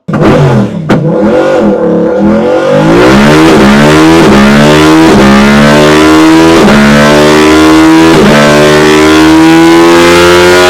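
A Yamaha R7 motorcycle with an aftermarket Thai-made exhaust revs loudly and continuously up close, engine pitch climbing and falling in repeated sweeps with sharp throttle blips.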